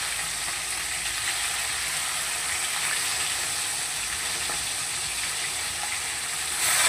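Rohu fish pieces fry crisp in a pan, giving a loud, dense, continuous sizzle and crackle that holds steady throughout.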